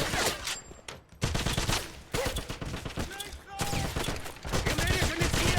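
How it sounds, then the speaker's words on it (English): Rapid gunfire rattles through a Wolfenstein firefight, with dense bursts of automatic shots and scattered single cracks, loud and close, under shouting voices. "Give me suppressing fire!"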